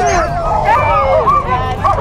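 Sled dogs at the 2008 Yukon Quest race yip and whine close by in rising and falling high-pitched calls, with faint crowd noise behind them.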